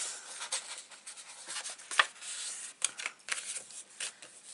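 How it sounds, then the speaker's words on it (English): Paper in a handmade craft mini album is rubbed by hand, giving a close, dry, scratchy rubbing with uneven strokes and a few sharper scuffs, with no talking. "Just going to rub that side out"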